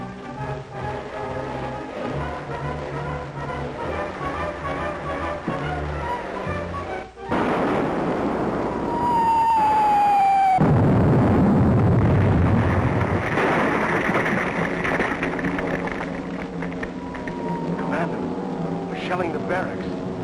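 Artillery shells a military barracks in a night raid, with heavy rumbling booms building into a sustained roar after a sharp crack, a descending whistle cutting through, and voices speaking over the din.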